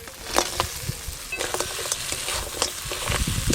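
Fried crabs from the Sundarbans are stirred in a ghee masala, giving steady close sizzling and frying broken by scraping and clattering from the stirring, with no talk.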